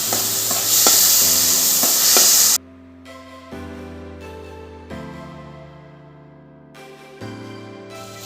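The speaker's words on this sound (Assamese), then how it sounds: "এয়া মোৰ বিলাহী ভজা হৈ গৈছে।" Tomatoes fry with ginger garlic paste in a loud, close sizzle with stirring scrapes for the first few seconds, then the sound cuts abruptly to steady tonal music.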